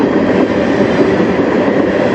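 A CN train passes close by at night, a loud continuous rumbling roar with rail noise that holds steady throughout.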